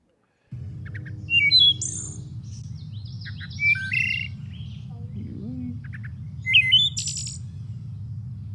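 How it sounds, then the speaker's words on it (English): Wood thrush song played back: several clear, flute-like whistled phrases ending in a brief buzzy trill, repeated about three times over a low steady hum, with no talking. "the easiest way to know if you're dealing with the wood thrush is if it ends with this little flourish at the end"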